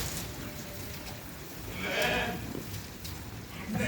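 Sheep bleating inside a barn on a sheep farm, a few calls rising near the middle and again at the end over a steady, muffled background of livestock noise.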